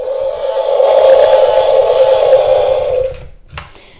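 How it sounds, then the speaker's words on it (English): A toy Tyrannosaurus rex from the Jurassic World Camp Cretaceous Primal Attack line whirs and rattles loudly while its button is held for about three seconds, then stops, followed by a brief clatter, close up with no speech. "But if you hold it, that's when you get the shaking and the rattling."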